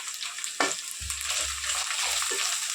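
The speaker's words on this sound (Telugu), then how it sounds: "అల్లం పేస్ట్తో ఫ్రై చేసుకున్నాం" Ginger paste and turmeric frying in a pan, a soft sizzle with a few scraping stirs and brief clanks, fairly quiet and close, no speech.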